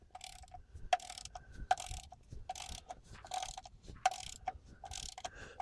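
A ratchet wrench snugs down a concrete anchor bolt, giving a series of quick clicking pawl bursts in short irregular strokes, close and fairly quiet.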